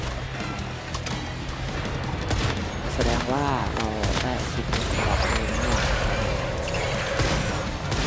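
Gunfire from shooting a boss in the video game Once Human comes as loud, dense bursts of rapid shots, with a voice talking over the action.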